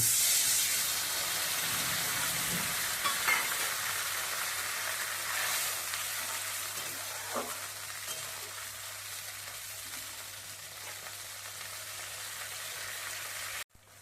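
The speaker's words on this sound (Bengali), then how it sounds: "টমেটো পেঁয়াজ ভালো করে ভাজা হয়ে গেছে দিয়ে দেবো পরিমাণ মতো জল" Fried tomato and onion sizzle in a pan after water is added, making a steady hissing simmer that slowly fades, with a few faint utensil clicks, ending abruptly.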